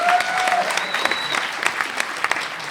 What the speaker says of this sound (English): A round of applause for Susie.